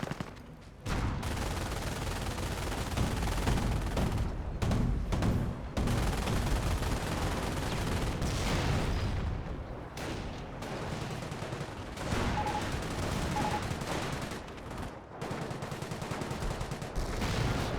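Sustained bursts of MG42 machine-gun fire in a Company of Heroes battle, a dense continuous clatter lasting many seconds, with brief pauses and possible distant artillery mixed in.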